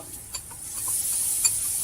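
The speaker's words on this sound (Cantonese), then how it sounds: "落油爆香啲臘腸粒、冬菇粒同埋蝦米粒" A steady, bright sizzle of diced Chinese sausage, mushroom and dried shrimp frying in oil, with light scraping of a spatula stirring the pan.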